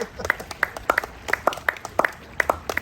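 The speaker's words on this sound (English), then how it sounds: "We have golf clap." A few people give a light golf clap during a podcast introduction, sparse individual claps in an uneven patter, close and fairly loud, with voices heard alongside.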